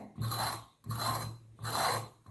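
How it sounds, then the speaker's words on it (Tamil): Snake gourd skin being scraped off with a steel tumbler in a home kitchen, heard as three rasping strokes, each about half a second long with brief pauses between, close and clear with no talking. "இந்த மாதிரி ஒரு டம்ளர் இருந்தால் போதும் நம்ம தோலெல்லாம் எடுத்துடலாம்"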